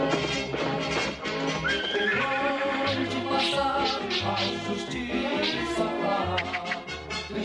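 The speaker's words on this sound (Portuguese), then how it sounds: "cavalo subindo a montanha" Horse whinnying and hooves clip-clopping as it climbs a mountain, carried over a dense, continuous musical score with no talk.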